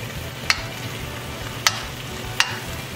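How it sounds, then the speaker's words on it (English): Ground beef is broken up and browned in a pan, a continuous sizzle punctuated by three crisp spatula scrapes spaced about a second apart. "break up the meat and let it brown for about 6 to 7 minutes or so."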